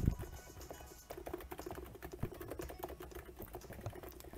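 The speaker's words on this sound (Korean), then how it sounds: "그럼 키보드를 한번 두드려 볼게요." Rapid, uneven keystrokes on a computer keyboard patter close to the microphone, with a faint low bed of music playing underneath.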